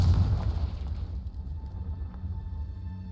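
A Confringo fire spell explodes in the Hogwarts Legacy video game, with a deep, loud boom at the start that fades into a lingering low rumble and crackle.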